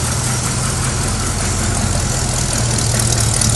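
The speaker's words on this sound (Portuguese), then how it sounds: "Vamos escutar o barulhinho de escapamento do bicho, ó." A 1976 Ford Maverick with a 302 V8 idles through dual exhaust outlets, a loud, steady, low rumble close to the car, with no talk over it.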